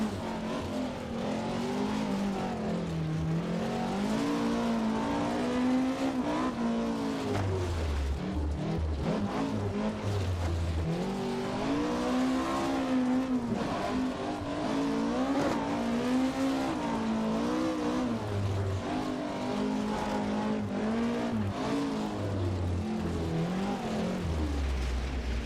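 A Ford Escort rally car in Richard Burns Rally, on the RAC Rally, drives at speed. Its engine revs up and down through repeated gear changes, loud and close, with occasional deep thumps from the road surface.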